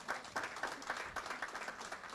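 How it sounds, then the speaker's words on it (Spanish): Applause from a conference audience honoring the panelists at a session on resilient, healthy cities, a fairly faint, steady patter of clapping with no voices over it. "Un fuerte aplauso, por favor."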